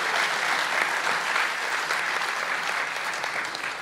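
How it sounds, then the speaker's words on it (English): A crowd at a game's grand final applauds a player named August. The clapping is dense and sustained, heard at a moderate distance, and eases off slightly toward the end. "Round of applause for August, please"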